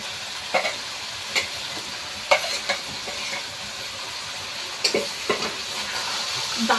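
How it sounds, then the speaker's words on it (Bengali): Lote fish curry with eggplant sizzles in a pan as its liquid reduces, giving a continuous close frying hiss with scattered spattering pops and light stirring taps. "লোটে মাছের জলটা একটু কমে গিয়েছে এবার কিন্তু বেগুনগুলো দিয়ে দেবো"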